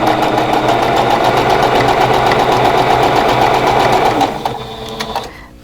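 A sewing machine stitches a quilt block in a steady, loud, close mechanical whir that runs unbroken for several seconds, then slows and trails off into a few scattered clicks.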